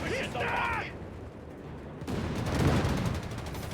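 Mortar blasts and gunfire in the WWII strategy game Company of Heroes 3 rumble in a dense, continuous battle wash. A deep blast swells near the end, while a voice and brief chatter come through early on.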